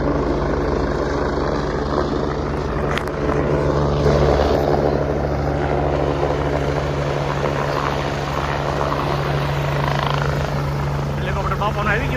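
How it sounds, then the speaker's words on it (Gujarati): A helicopter arrives at an outdoor religious procession for a Ram Katha gathering, its rotor thudding loudly and continuously nearby while people talk over it. "હેલિકોપ્ટર બાપાનો આવી ગયો છે"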